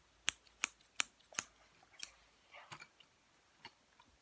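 A pair of scissors is handled and opened, giving a series of sharp, close metallic clicks at a steady pace, followed by quieter scraping and a last faint click, with no speech.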